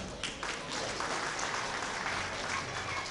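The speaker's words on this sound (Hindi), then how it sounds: "आपकी तालियां इनका स्वागत कर लें एक बार" Audience applause at a kavi sammelan mushaira held at BRD Medical College in Gorakhpur, welcoming a poet onto the stage; a steady, dense wash of clapping from a large crowd throughout.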